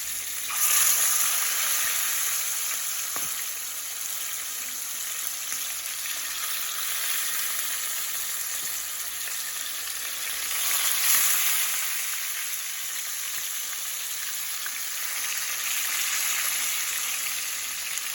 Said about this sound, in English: This is my oil hot now, so I put in the meat there.